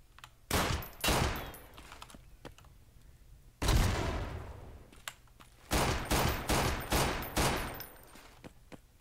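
Gunfire from a weapon in the video game Roblox, bursts of rapid shots with gaps between them and one longer volley, loud and close, with faint keyboard clicks in between.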